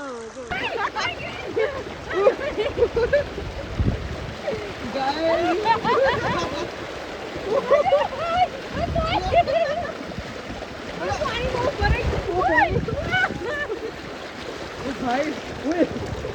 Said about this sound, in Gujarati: આ વહેતું પાણી છે કેમ કે પાણીમાં કોઈની તાકાત ચાલે નહીં.